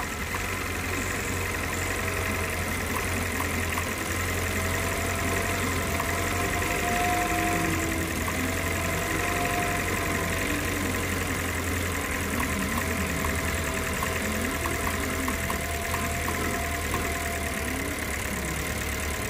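A 2018 Chevrolet Cruze 1.4L turbo engine, being repaired for a cylinder 1 injector misfire, idles steadily after starting, with a fairly faint, even hum and light ticking throughout.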